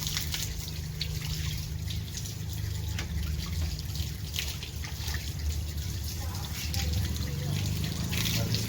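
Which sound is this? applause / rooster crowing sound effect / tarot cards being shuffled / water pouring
water pouring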